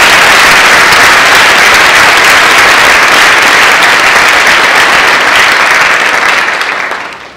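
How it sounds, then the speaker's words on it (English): A large crowd claps loud and steady for the senior leadership team seated on stage at a high school National Honor Society ceremony, then fades out over the final second. "Let's give them a round of applause."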